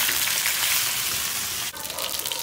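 Potato pieces frying in oil in a pot on an outdoor wood-fired stove, a steady close hiss of sizzling that shifts abruptly partway through as more potatoes hit the oil, with no talking.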